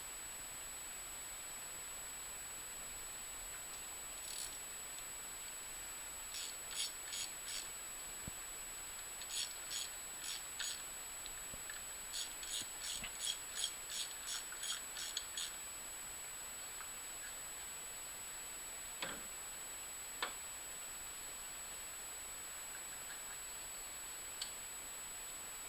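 Faint, sharp clicks of a torque wrench tightening the nuts on an ECHOTec AML series pump to 7.3 foot-pounds, arriving in short rapid bursts with pauses between and a few isolated clicks over a quiet hiss.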